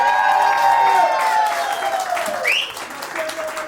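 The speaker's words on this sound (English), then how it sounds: "y'all gotta give a fire round of applause for the CEO of Casa, Mr. Sammy Beltran." An audience at a comedy show breaks into loud applause with cheering, whoops and whistles, a thick sustained roar of clapping that tapers slightly toward the end.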